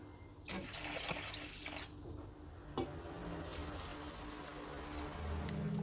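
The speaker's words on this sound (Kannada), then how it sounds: "ಈಗ ಇದನ್ನು ಒಂದೆರಡು ಸಲ ಚೆನ್ನಾಗಿ ತೊಳೆದ್ಬಿಟ್ಟು ಫ್ರೆಶ್ ನೀರು ಹಾಕಿ ನೆನೆಯೋಕೆ ಇಡ್ತೀನಿ" Soaked fenugreek seeds and puffed rice being washed by hand in water for tomato and carrot dosa batter, with steady swishing and splashing throughout and a few brief clinks of a vessel.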